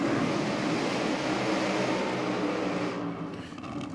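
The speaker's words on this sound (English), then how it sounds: "Yeah, nice side-by-side burnouts." Two nostalgia drag racing cars, Terminator and King Kong, do side-by-side burnouts, a loud continuous engine roar with tire noise that eases off near the end.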